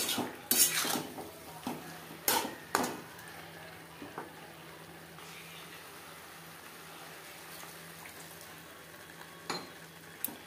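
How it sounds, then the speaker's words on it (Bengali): A metal spatula clanks and scrapes against a pan while jackfruit is stirred into spices, giving a few loud knocks early and scattered clinks later over a faint steady sizzle. "মশলার সাথে এঁচড় বেশ ভালো করে মিক্স করে দেব।"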